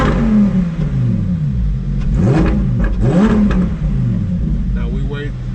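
A Lamborghini Huracan STO engine in a video game revs up and down in several rising and falling sweeps, loud and close under music and a talking voice.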